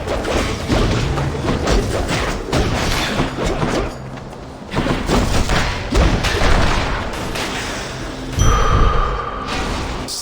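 Training dummies blowing up after being struck in the video game Hades: a dense run of booming thuds and crashes layered with combat effects and music, loud throughout with a sharp burst near the end.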